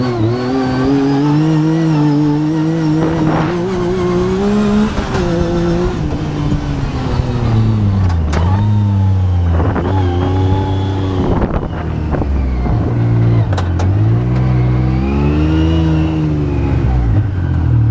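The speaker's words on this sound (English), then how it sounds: "I'll stop talking so you can hear the motor." A Yamaha YXZ side-by-side engine revs continuously in a yard, its pitch rising and falling through repeated throttle swells with a few sharp dips, loud and close with wind buffeting the microphone.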